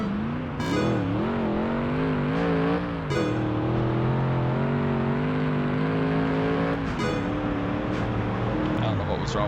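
A Corvair in a video-game drag race, its engine climbing steadily in pitch and then dropping sharply at several gear shifts, loud and close in a continuous run.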